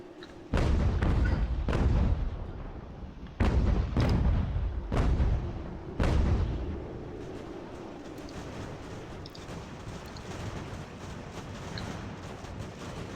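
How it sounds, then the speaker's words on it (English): Artillery bombarding a fort in Ultimate General: American Revolution, with several loud, heavy cannon booms in quick bursts over the first six seconds, each ringing out before a lower rumbling battle ambience that continues afterward. "I'm just gonna pretty much use my artillery and just bombard the fort for a while"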